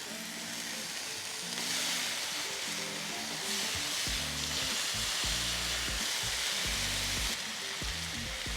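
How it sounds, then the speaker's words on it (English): Thick-cut bacon strips sizzle steadily on a Pit Boss Ultimate flat-top griddle, a dense crackling hiss with intermittent louder pops and a faint rhythmic knocking underneath, close up and without any talking. "We got some thick cut bacon. That's right, you gotta love that sizzle."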